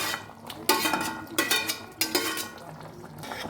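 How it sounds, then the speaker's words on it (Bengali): Capsicum and tomato stirred into potatoes in a pan, with a few distinct metal spoon scrapes and clinks against the pan in short bursts, fairly quiet and with no talk. "নেড়ে চেড়ে আলুর মধ্যে মিশিয়ে দেব"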